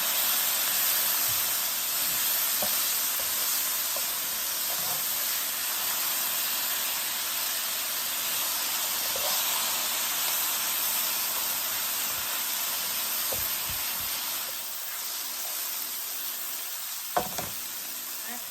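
Vegetables and sausage searing in a hot pan with a glaze forming on the bottom, a steady broad sizzling hiss throughout with a few soft knocks and clinks, close and continuous, no talking.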